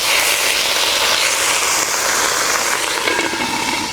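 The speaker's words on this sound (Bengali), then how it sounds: "এবারে একটু জল ছড়িয়ে দিব" Aubergine paturi frying in mustard oil in a pan hisses loudly and steadily throughout after water is sprinkled in, producing a close, dense sizzle with no talk.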